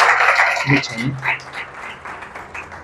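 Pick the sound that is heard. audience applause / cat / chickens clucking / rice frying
audience applause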